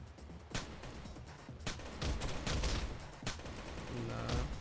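Rapid bursts of gunfire from the tactical shooter video game Tom Clancy's Rainbow Six: Shadow Vanguard, sharp repeated shots cracking over a dense, noisy game soundscape.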